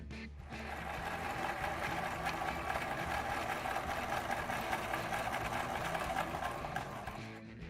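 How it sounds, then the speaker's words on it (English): A sewing machine stitches fabric for a handmade Scrump doll, giving a steady, close mechanical whir with a fast, even needle rhythm that runs unbroken for about seven seconds with no talking. "You can hand sew this for authenticity or run it through your sewing machine"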